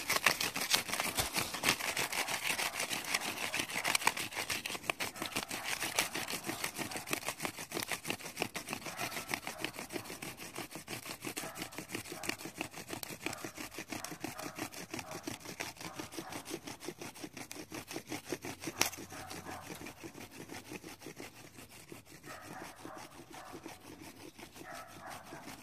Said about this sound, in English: you take the sticks you have gathered and you rub them together for a long period of time and it makes fire